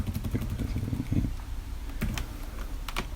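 Fingers type on a computer keyboard with quick, uneven bursts of clicky keystrokes and short pauses between them, heard fairly quietly and close up. No one speaks.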